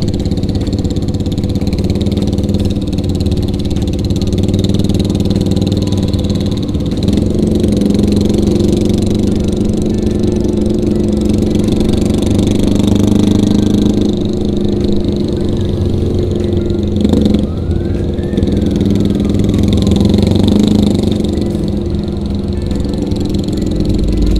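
A Honda Goldwing motorcycle engine rumbles steadily nearby at a city anniversary bikers' rally in Tasikmalaya, a deep, smooth idle with occasional mild revs and a faint higher whine passing once.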